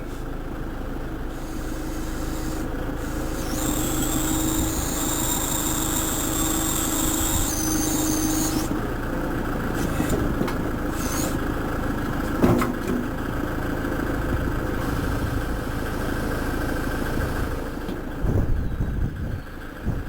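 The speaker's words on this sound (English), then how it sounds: "the hydraulics would work a little faster if I had the RPMs up a little bit" Kubota tractor engine idling at low RPM while the backhoe attachment's hydraulics operate, a steady close engine rumble with intermittent whining hydraulic surges and a few metallic clunks.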